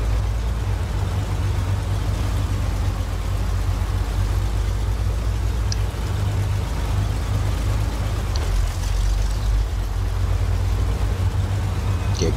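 In the video game Snowrunner, an off-road truck's engine drones steadily and low at a constant level throughout, with no talking.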